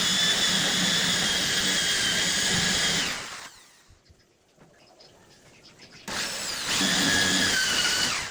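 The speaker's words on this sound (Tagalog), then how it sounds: "Sa pagbubutas naman, gumamit ako ng drill." A power drill bores a hole through a wall for a rangehood exhaust, whining loudly and steadily for about three seconds, then cutting out. After a quiet pause it starts up again at full speed, close and alone.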